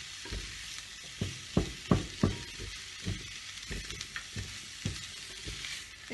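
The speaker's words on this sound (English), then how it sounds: "the pan is quite full, but you need the heat, and we're going to let this stir fry" Vegetables stir-fry in a very full pan over high heat, giving a steady close sizzle broken by a series of sharp scraping and clattering stirs, with no talking.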